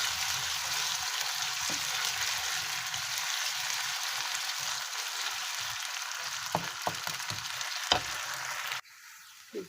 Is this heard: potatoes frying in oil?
yes